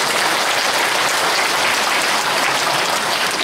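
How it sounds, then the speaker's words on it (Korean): A crowd at a founding ceremony gives loud, continuous applause, a dense wash of clapping that stays level from start to finish. "박수 한번 부탁드립니다."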